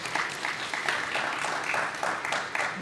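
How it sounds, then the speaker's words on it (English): Applause from a conference audience at an African blockchain event, a steady patter of many hands clapping at moderate loudness throughout, with no talk over it. "She deserves a round of applause"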